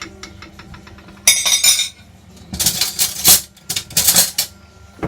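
Plate and serving dishes clinking while stir-fried ham is plated up: a sharp ceramic clatter, then bursts of metallic scraping and clinking of a spoon against dishes, close and uneven.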